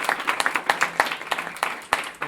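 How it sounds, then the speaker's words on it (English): Scattered applause in a school board meeting, distinct individual claps from a modest group in a room, fairly sparse and uneven. "So let's give them a round of applause."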